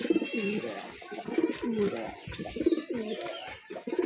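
A matched pair of Kalishira pigeons coos repeatedly at close range, soft rolling calls recurring every second or so amid light background noise.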